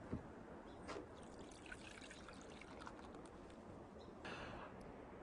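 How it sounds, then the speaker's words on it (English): Blended wheatgrass juice poured through a fine mesh bag gives a faint, steady trickle and patter of liquid with a few soft splashes, heard up close and alone. "we pour it through a fine mesh bag"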